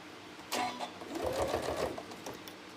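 Sewing machine stitching prairie points onto a trapunto cushion, a short stop-and-start burst of whirring stitches lasting about a second and a half, moderately close and quiet.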